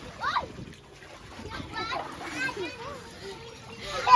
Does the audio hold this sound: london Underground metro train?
no